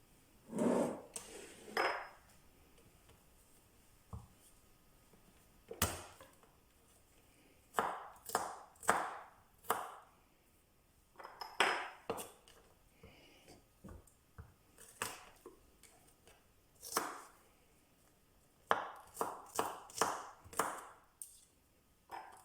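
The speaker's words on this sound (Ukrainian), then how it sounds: "І нарізаємо невеличкими частинками." A knife chops food into small pieces on a board for an oven-baked chicken wing dish, heard as irregular bursts of sharp, close taps with short pauses between runs.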